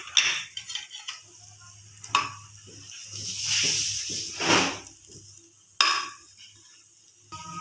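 Garlic, red chili flakes and cumin stirred in a pan for crispy fries: uneven spoon scrapes and clinks over a soft sizzle, with a couple of louder knocks against the pan.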